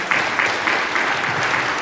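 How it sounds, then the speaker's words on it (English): Brief burst of audience clapping at a community event honoring Hope House kids, a dense, even patter lasting under two seconds. "So give another round of applause"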